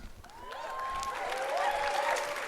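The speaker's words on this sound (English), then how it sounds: "we don't have to cheer after every sentence" A live crowd at the E3 2018 Bethesda showcase bursts into sustained applause and cheering, rising and swelling over a couple of seconds, with whoops and whistles piercing the dense clapping.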